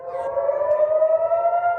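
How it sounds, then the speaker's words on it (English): An air-raid siren wails steadily in the distance in Israel, a sustained tone holding without pause. "Sirens sounded immediately in Israel."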